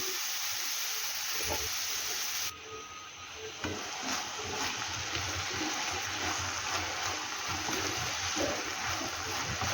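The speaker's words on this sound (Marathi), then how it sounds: "आता तीही आपण या तेलामध्ये पाच मिनिट फ्राय करून घेणार आहोत" Sprouted moth beans (matki), freshly washed, frying in hot oil: a loud, steady sizzling hiss throughout, briefly dipping and then surging again, with faint stirring underneath and no talking.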